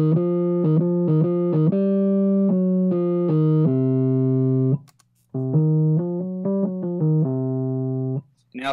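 A Fender Rhodes Stage 88 electric piano runs through distortion via Guitar Rig 5 and a Vox AC4TV amp, playing gritty, buzzing chords and short stabbed phrases with a brief gap midway before the notes resume.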